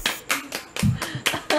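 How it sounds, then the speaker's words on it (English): Several hands clap in an uneven burst of about seven sharp slaps over a second and a half, close and fairly loud, with no talking. "Let's clap."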